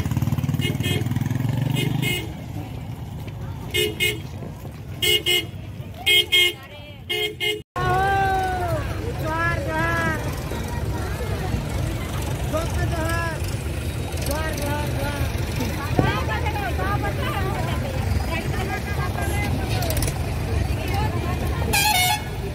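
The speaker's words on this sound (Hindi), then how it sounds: "पूरा ट्रैक्टर ट्रक सब भर के आए हैं।" Loaded tractors and trucks arrive on a busy Christmas night near Fatima church in Hulhundu: a dense wash of engine noise and repeated horn toots and honks, with people talking loudly over the traffic throughout.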